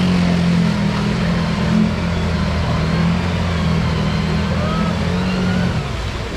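Off-road vehicle engine labouring loud and close while driving through autumn mud, a sustained low drone holding steady and then easing off near the end.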